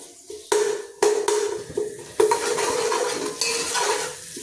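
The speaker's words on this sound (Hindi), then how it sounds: "लहसुन अदरक को अच्छे तरीके से फ्राई करना है" Garlic and ginger paste sizzles with onions in a pan for mash daal, while a spoon clanks sharply against the metal several times amid steady frying hiss.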